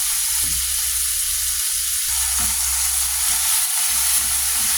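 Fried rice with a splash of soy sauce sizzling steadily in a hot pan, a loud continuous hiss with a few soft scraping stirs underneath, no talking.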